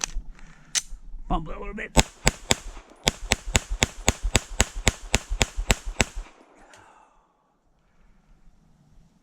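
Kimber KDS9C 9mm pistol fired in a rapid string of about fifteen sharp cracks, evenly spaced and close, with a brief spoken remark just before the shooting begins.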